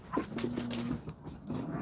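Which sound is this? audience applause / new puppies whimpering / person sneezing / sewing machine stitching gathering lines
new puppies whimpering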